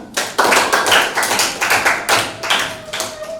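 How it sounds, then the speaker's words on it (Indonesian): A classroom of students clapping together, quick and close, in uneven bursts with a few table taps mixed in for a few seconds. "Oke, tepuk tangan buat kita semua."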